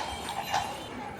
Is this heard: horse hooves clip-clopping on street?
yes